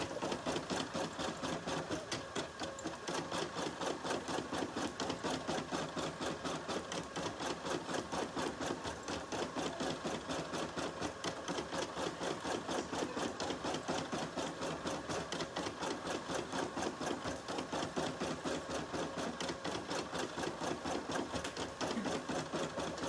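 An embroidery machine stitches the back of a robe, keeping up a steady, fast mechanical chatter at close range, constant and uninterrupted throughout with no talking.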